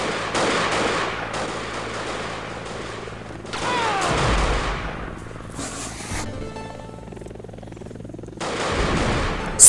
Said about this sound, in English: I hear some like bullet impacts on the wall.